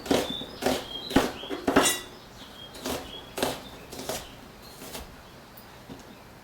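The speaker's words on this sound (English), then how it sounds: "we're going to go ahead and chop the onion up and put it in here" A knife chops an onion on a board with a series of crisp, irregular taps, close and fairly clear, spaced out with quiet gaps between them.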